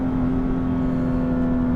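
BMW M2 CS engine holds a steady, loud droning tone, a constant mechanical hum with no talking over it.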